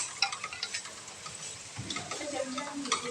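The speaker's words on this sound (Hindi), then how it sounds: "ये देखिए अब इसको हम हल्का हल्का हलाएंगे" Chillies and spices stirred in a cooking pan, soft scraping and light clinks over a faint sizzle, close and gentle, with a little speech in the background.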